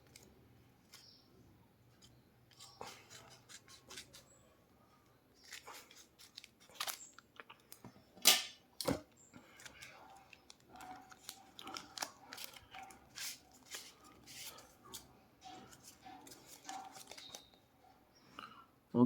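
A small parcel is cut open at close range with scissors, giving irregular snips and crunching rips of packaging, and loud plastic and tape rustle in between.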